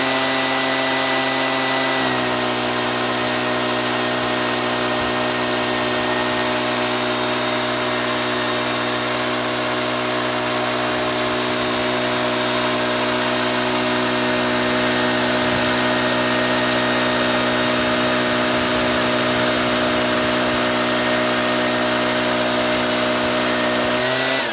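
A leaf blower starts with a jump in level and then roars at a constant, loud, steady pitch, blasting air at a DJI Mavic Mini drone from about four feet away, with no voices.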